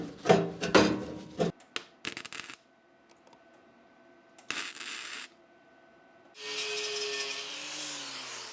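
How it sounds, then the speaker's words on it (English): Paint being stripped from thin steel ahead of welding, heard as bursts of harsh abrasive rubbing and scraping broken by pauses, ending in a steadier grinding hum. "the first thing I'm gonna do is just get rid of some of this paint near where we need to weld"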